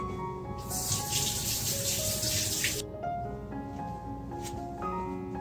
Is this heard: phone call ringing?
no